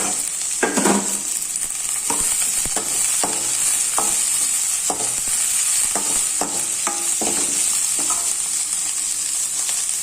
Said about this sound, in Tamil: இப்போ நம்ம அரிஞ்சு வச்சுருக்கிற கோவக்காய் சேர்த்துக்கலாம்